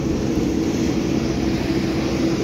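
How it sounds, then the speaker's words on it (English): A small turboprop plane in the Philippines gives off a loud, continuous propeller drone with a steady low hum, unbroken and close throughout. "We're heading to a little small turboprop plane"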